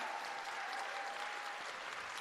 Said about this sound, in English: Huge round of applause for all of them.